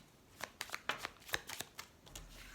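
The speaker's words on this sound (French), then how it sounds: "Je vais peut-être remonter les cartes comme ça sera plus simple pour que vous puissiez tout voir." Tarot cards are handled and gathered up in a quiet room, giving a quick run of soft, papery slaps and rustles, about a dozen separate card sounds heard up close with no speech.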